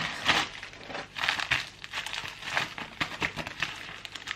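Plastic packaging crinkles and rustles up close in irregular bursts, crackling loudly and then easing off, with no voices.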